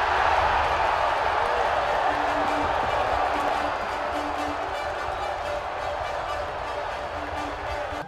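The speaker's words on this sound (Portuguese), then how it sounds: "E na cobrança, Rodrigo Silva fez a torcida vibrar." Stadium crowd at an ABC versus Novo Hamburgo Copa do Brasil football match cheering after an ABC penalty goal, a broad sustained roar that fades slightly midway, with a commentator talking over it.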